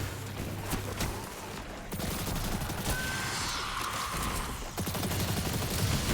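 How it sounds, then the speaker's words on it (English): Grenade blasts and gunfire from the shooter game Destiny 2, played on Legend difficulty, make a dense, continuous barrage of weapon fire and impacts that fills the whole stretch. "I'm going to throw a grenade over there."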